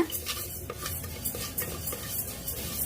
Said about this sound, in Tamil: இப்ப ஒரு குக்கர்ல எடுத்து வச்சிருக்கிற பாசி பருப்பை சேர்த்துக்கிட்டு வறுத்துக்கிறேங்க.